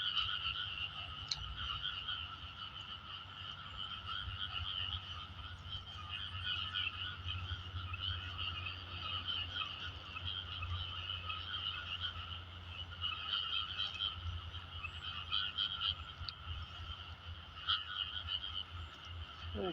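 Frogs croaking in a dense, continuous chorus of overlapping calls that carries steadily through the whole stretch, with a constant low hum underneath and no voices.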